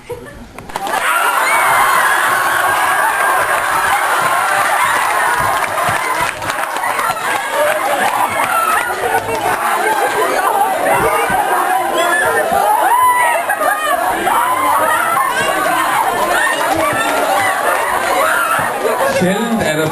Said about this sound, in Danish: Sjældent er der blevet jublet så meget i gymnastiksalen.